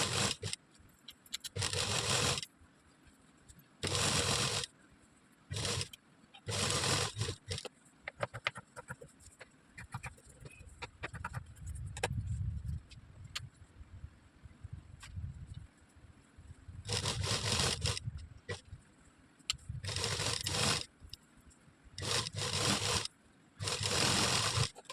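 A sewing machine stitches cloth pieces together for a homemade bag, running in repeated short bursts of steady whirring separated by pauses with quieter handling and rustling of fabric between runs.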